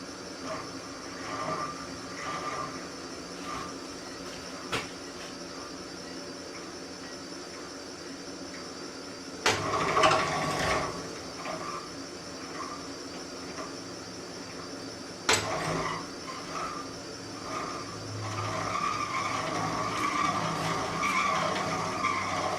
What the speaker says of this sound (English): I got a piece of scrap aluminum in here. I got this blade spinning at 50 RPM.